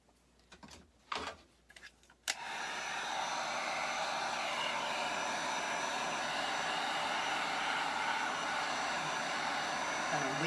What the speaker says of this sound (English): So I'm going to actually hit it with the heat gun again.